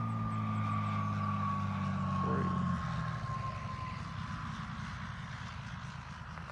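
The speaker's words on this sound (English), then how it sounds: "He's flying in this morning on his private plane" A small private propeller airplane drones steadily nearby, its engine tone shifting as it passes, then fading into a lower rumble.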